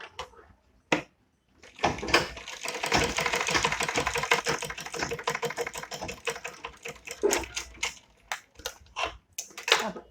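A sewing machine stitches a small night suit for a Bal Gopal idol in rapid, rattling bursts, with a long continuous run in the middle and short stop-start stitches before and after, close and clear.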